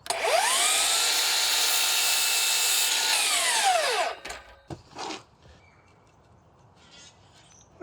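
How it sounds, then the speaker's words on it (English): A power tool trims an eighth of an inch off a wooden patio table board: a loud, whining motor spins up, cuts steadily for about four seconds, then winds down, followed by a couple of sharp knocks and quiet handling. "I'll just trim 1/8 of an inch off of that and see how that fits."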